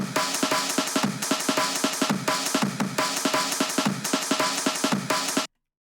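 A drum break sample plays alone, a punchy looping breakbeat of kicks, snares and hi-hats in a steady rhythm, loud and dry, ending abruptly in silence.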